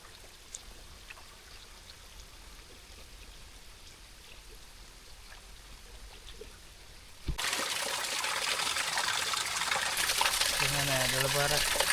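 A small stream trickling beside a forest hiking trail on Dolukanda, swollen after rain; steady broadband rushing water comes in abruptly and loudly partway through, with a voice speaking nearby.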